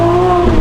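A Lamborghini Aventador SVJ Roadster's exhaust gives a loud, close, sustained tonal roar, steady and brief.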